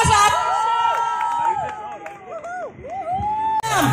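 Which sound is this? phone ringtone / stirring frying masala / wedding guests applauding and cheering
wedding guests applauding and cheering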